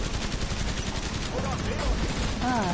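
Gunfire in Killing Floor 2: rapid, continuous automatic shots rattling without pause at high volume, with a voice briefly heard underneath.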